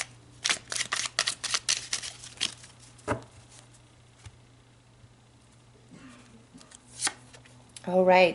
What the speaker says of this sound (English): let's pull some cards to clarify these dice